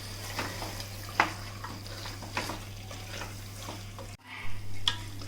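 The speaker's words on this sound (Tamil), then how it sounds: "சேர்த்துட்டு இதையும் நம்ம மசாலாவோட நல்லா கிளறி விட்டுறலாம்" A spoon scrapes and clinks through chicken and masala sizzling in a pan for Chettinad chicken gravy, in irregular strokes over a constant low hum of frying.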